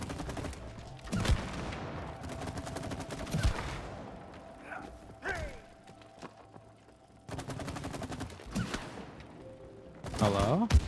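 Rapid bursts of video-game gunfire from target shooting in It Takes Two, with repeated volleys of close, sharp shots separated by quieter stretches of game sound and talk.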